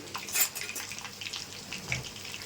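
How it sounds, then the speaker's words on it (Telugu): Fish, a freshly caught river species, frying in a pan, a soft steady sizzle with faint clinks of utensils and one brief louder scrape. "ఫ్రై ఎంతవరకు వచ్చిందో చూద్దాం"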